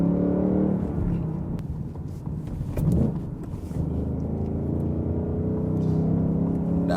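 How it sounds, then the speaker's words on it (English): A Ford Mustang Mach 1 coupe engine rumbles steadily near and loud, with a brief blip around the middle as revs rise on a downshift, then a sustained drone continues. "Downshift rev matching is a pleasure."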